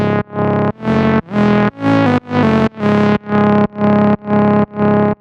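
Synth bass layer built from a saw wave with hard clip distortion, loud buzzy notes repeated about ten times in a steady rhythm, each with a sharp attack and abrupt stop, heard alone.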